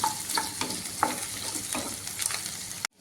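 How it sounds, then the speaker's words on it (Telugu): Halved green chillies fry in hot oil with a constant crackling sizzle and repeated spatula scrapes, close and alone before the sound cuts off abruptly near the end. "ఇప్పుడైతే పచ్చిమిరపకాయలు వేగిపోయాయి."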